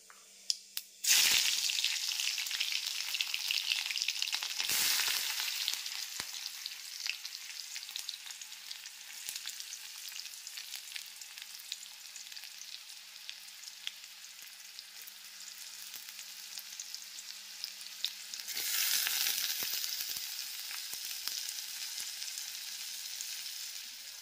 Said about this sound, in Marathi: तेल तापलंय, मोहरी, मिरची, कांदा आणि टोमॅटो.